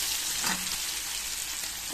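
Onion fries in hot oil in a pan for an akkha masoor curry, a loud, dense, continuous sizzle close by with a brief stir near the start and no talking.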